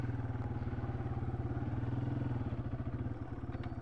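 A T-dub truck's engine idles and pulses steadily at close range, a low rhythmic throb holding even throughout with no voices.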